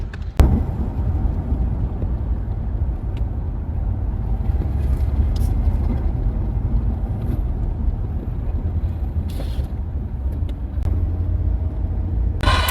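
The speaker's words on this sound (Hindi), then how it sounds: "बारिश हो रही है और बाहर ट्रैफिक भी हो रहा है" Continuous low rumble of road traffic outside during rain, heard from indoors or a vehicle, with a steady wash of engine and tyre noise and occasional faint clicks.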